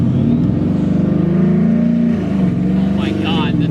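A Coyote-swapped 1995 Ford Lightning pickup truck revs its engine up loudly and close, a strong continuous drone that rises and falls, with no talk over it.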